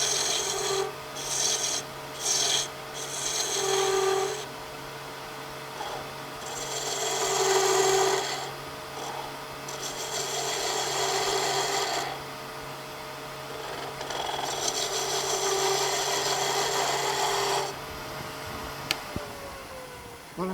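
A bowl gouge cutting a wood spindle on a lathe, with close, loud scraping and rasping passages in repeated bursts over a steady motor hum, separated by brief quieter pauses.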